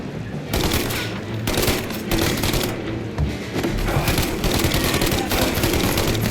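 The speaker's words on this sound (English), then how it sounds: "Of course, we've got a Tommy gun. Thompson submachine gun, if you prefer." A Thompson submachine gun firing in the Mafia video game: loud, close bursts of rapid automatic fire separated by short pauses, with no talking.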